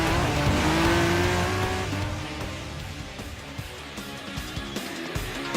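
An NSX Group 4 race car in Gran Turismo Sport, engine note rising and then easing off, with a brief tire squeal and gear-change blips as it drives on, no voices heard.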